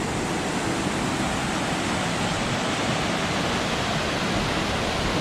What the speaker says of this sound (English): And then we have this, like a sluice right here.